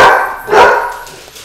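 Alert guard dogs barking nearby, a cluster of loud barks near the start and a sharper peak about midway, trailing off into quieter yips.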